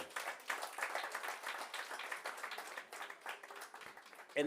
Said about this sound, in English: I think we need to applaud you guys and the board as well